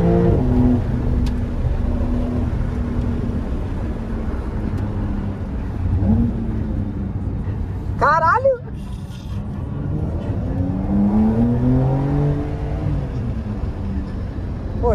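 A Porsche engine accelerates hard and steadily for the whole stretch, its rising and falling note loud and close, with a brief burst of talk partway through.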